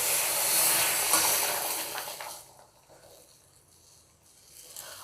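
A loud, bright hiss and sizzle as boiling water hits roasted semolina in a pan, fading after a couple of seconds into quieter bubbling and soft kitchen noise.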